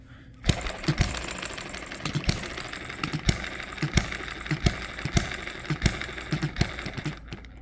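A hit and miss engine barely running, starved of gas, gives close, irregular sharp pops and knocks, some clusters faster than others, over a steady mechanical hum.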